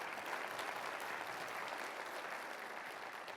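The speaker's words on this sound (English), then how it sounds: "Give Mike Summers a round of applause." An audience applauds at the APLU 2019 Annual Meeting, a dense, sustained wash of clapping from a large crowd, steady and fairly distant throughout.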